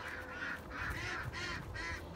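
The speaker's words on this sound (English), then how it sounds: "So it was one of the ducks out there." A duck outdoors gives a series of four or five honking calls in a steady rhythm, moderately faint and at a distance, with no talking.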